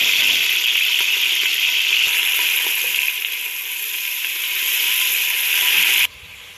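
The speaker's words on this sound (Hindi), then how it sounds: "अब इसमें मैं 2 दरमियानी साइज की बारीक कटी हुई प्याज शामिल करके इनको गोल्डन होने तक फ्राई" Two medium, finely chopped onions frying in hot oil toward golden for a mutton curry give a loud, continuous hiss close by, dipping slightly midway before cutting off abruptly near the end; nobody talks.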